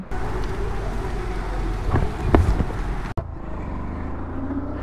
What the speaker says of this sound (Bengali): কি জোরে বৃষ্টি হচ্ছে ভাই এই মুহূর্তে।